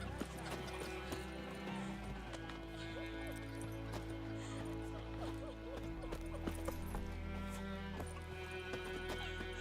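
Horse hooves clip-clopping along with a whinny in The Witcher 3: Wild Hunt, a steady trotting rhythm under game music and ambience while a person talks over it.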